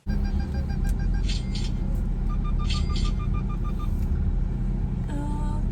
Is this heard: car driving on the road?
yes